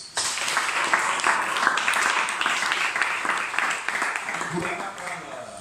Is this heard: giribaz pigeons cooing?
no